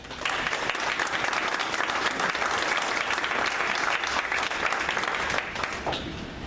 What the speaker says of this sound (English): So if I could just get a round of applause.